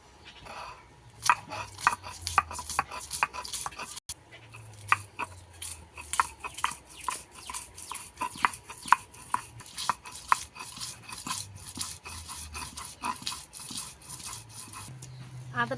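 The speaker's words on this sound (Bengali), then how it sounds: "আদা রসুনটা বেটে নেব।" Ginger and garlic are ground into paste by hand, producing rhythmic rubbing and scraping strokes that repeat steadily at close range, fairly quiet, with low grinding rumbles between strokes.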